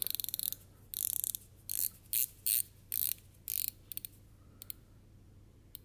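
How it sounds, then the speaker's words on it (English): The rotating bezel of a Bernhardt Corsair watch with a blue dial is turned, producing rapid runs of crisp ratcheting clicks in short bursts with pauses between them, very close and quiet, with no talk. "Let's check out the bezel action."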